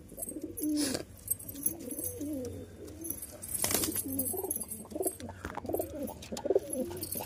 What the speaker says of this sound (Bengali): একজোড়া কবুতর।